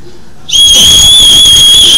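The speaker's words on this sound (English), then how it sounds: "They do want to show you their whistle really quick, how loud and sharp it is" The built-in whistle on a Camelbak MINI M.U.L.E. hydration backpack is blown once, giving a loud, sharp, steady high-pitched shriek that starts abruptly and holds, close to the listener.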